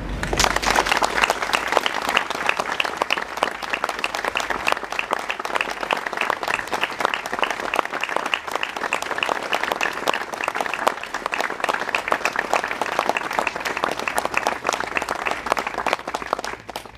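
Sustained, steady applause from a large crowd at a civic mobilization gathering in Barentin, France, with dense clapping holding at an even level throughout.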